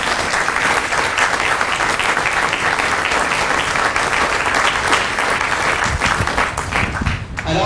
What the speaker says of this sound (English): let's give these family members a round of applause